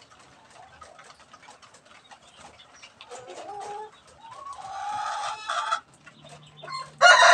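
A hen clucks beside newly hatched chicks, soft low clucks building into louder, drawn-out calls, close and alone except for one brief spoken word.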